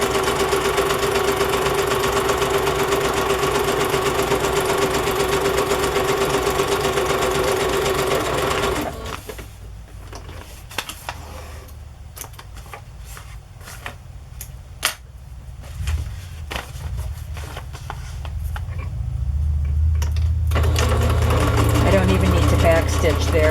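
A sewing machine straight-stitches down the edges of stacked journal pages, a steady close whir that stops partway through, leaving quiet clicks and handling noises before the motor hum returns near the end.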